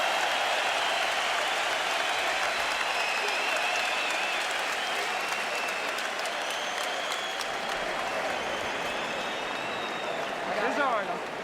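A boxing crowd at the Jermain Taylor vs Kelly Pavlik fight in 2007 roars and applauds between rounds, a sustained, dense arena wash of clapping and cheering that swells near the end, with voices mixed in.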